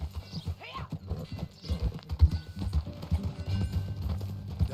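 Horse hooves clip-clopping in the video game Red Dead Redemption 2, a steady close rhythm of hoofbeats on the ground, with a brief whinny near the start.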